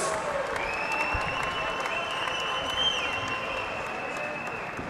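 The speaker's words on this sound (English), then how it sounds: "Ladies and gentlemen, a round of applause, please, for these 84 kg warriors." A crowd at a hybrid-rules fighting event applauds steadily for the 84 kg fighters, dense clapping with whistles and cheering mixed in.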